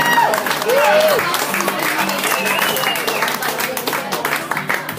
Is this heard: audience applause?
yes